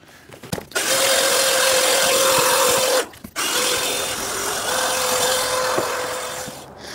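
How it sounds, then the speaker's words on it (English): A vacuum cleaner runs on the carpet inside a camper van, a steady loud whir that cuts off briefly near the middle and then resumes, with a few knocks at the start and finish. "All right, I'm done with the vacuuming."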